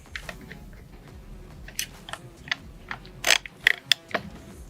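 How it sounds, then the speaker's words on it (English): Barrel retaining nut being tightened on a shotgun fitted with a Streamlight TL Racker, a series of sharp close mechanical clicks and ratcheting ticks, a few louder snaps near the end, over a quiet background. "Tighten down the barrel retaining nut."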